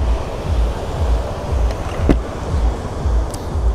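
Ocean surf rolling onto the beach at Canggu, Bali, with rhythmic low surges of breaking waves a few times over a few seconds, loud and close under wind buffeting on the microphone.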